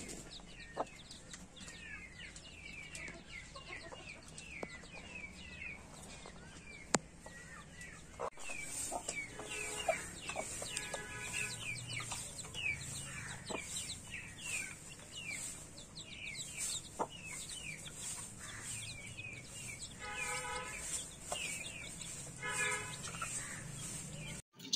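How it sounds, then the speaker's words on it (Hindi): Chickens cluck steadily in a farmyard with chicks peeping and a cobra-breed rooster among them, a continuous busy chorus of close and farther fowl calls with occasional sharper squawks. "ये मुर्गा जी कोबरा मुर्गा है"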